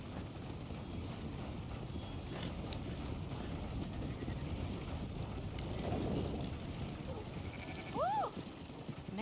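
A sheep in the Red Dead Redemption 2 video game gives one short, wavering bleat near the end, heard over a steady bed of outdoor ambience and soft hoofbeats.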